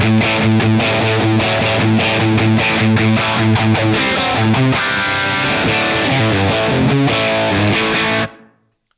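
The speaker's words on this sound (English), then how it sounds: "let's hear the small room on this." Distorted electric guitar played through a Fender Mustang Micro Plus headphone amp with small room reverb, a loud chugging riff with sustained chords that stops abruptly, leaving a short reverb tail.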